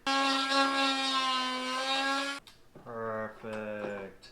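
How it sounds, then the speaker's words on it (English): A Dremel rotary tool enlarging a hole in a custom door panel for a diesel Beetle whines steadily and loud up close, then cuts out and returns in two shorter bursts at a lower pitch. "I'm going in there with the Dremel and making it just a tiny bit bigger."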